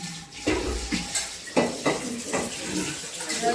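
Metal dishes and plates being washed, with repeated clinks and clatters of pots and utensils over running water, fairly close.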